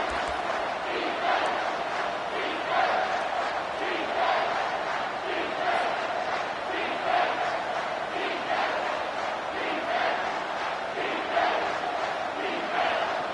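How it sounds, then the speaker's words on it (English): A packed football stadium crowd roars on third down, a dense, sustained wall of cheering and yelling that swells in waves, loud and continuous with no break. "Third down, and this crowd is tearing the lid off this place."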